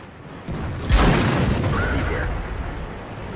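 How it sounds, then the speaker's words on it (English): A single heavy tank cannon boom from a World of Tanks battle, fired from a T-62A, lands abruptly and is followed by a long rolling rumble that slowly fades. "I take a few pot shots at the enemies, but I take a hit from the T-34"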